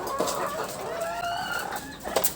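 Caged chickens on a poultry farm cluck and murmur continuously, with a few sharper calls rising over a steady background of farm noise.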